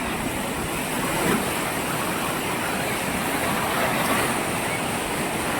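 Steady broadband rush of flowing water, loud and close throughout, like surf or a waterfall, with no clear speech over it.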